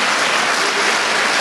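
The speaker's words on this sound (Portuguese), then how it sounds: "Dê um aplauso ao Senhor, os servos do Senhor nessa noite." A church congregation applauds together, a dense, steady wash of many hands clapping at close range and fairly loud, continuous for the whole stretch with no voices standing out.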